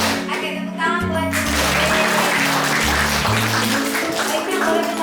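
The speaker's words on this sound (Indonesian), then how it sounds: "Oke, tepuk tangan buat" A crowd of people clapping together in a room, steady applause lasting several seconds with some rhythmic beats and voices mixed in.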